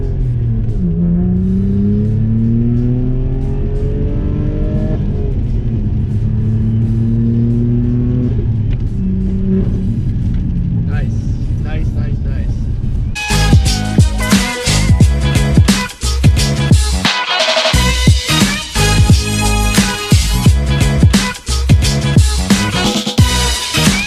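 A Saab Turbo X sedan's engine revs up and settles back several times, the rising drone repeating over a rumbling idle, before louder, busier engine and road noise fills the second half.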